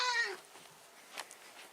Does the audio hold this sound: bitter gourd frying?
no